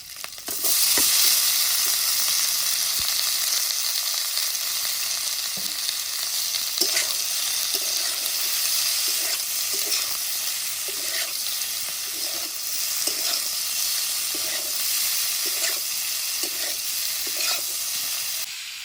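Paneer cubes fry in a pan in village-style cooking, a steady loud sizzle running throughout with repeated scraping clicks of stirring at irregular intervals.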